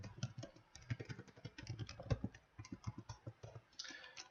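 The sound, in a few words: typing a sample login on a computer keyboard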